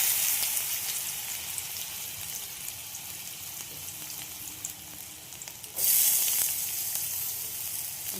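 Carrots are dropped into hot oil in a pan for chire pulao, raising a bright, steady sizzle that swells suddenly louder partway through as fresh pieces hit the oil.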